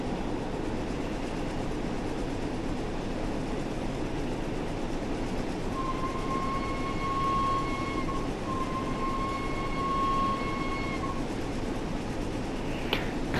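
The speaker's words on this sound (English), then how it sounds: "Some nice whistle tones there." The Flying Scotsman steam locomotive in Train Sim World 4 sounds its whistle in two long steady blasts over a continuous rumble of rolling rail noise on the Fife Circle Line.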